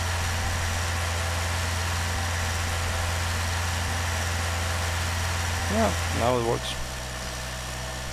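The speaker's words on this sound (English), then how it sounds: "there is no way how to stop the engine right now. So it will keep running." A simulated tank engine idles in a steady, low, droning hum that runs throughout, with someone talking over it near the end.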